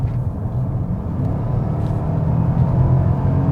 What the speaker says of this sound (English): Not the most exciting motor, but it gets the job done and it makes a good noise.